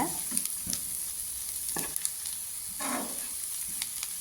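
Tamarind and onions are sautéed for egg curry with a steady oil sizzle, broken by several scraping strokes of a spatula stirring the pan, close and without speech.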